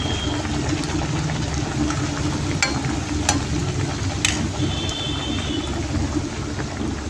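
Bhatura dough dropped into hot oil, a steady close sizzle and bubbling with a few sharp clinks and scrapes from a utensil against the pan.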